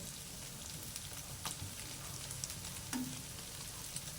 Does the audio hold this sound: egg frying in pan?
yes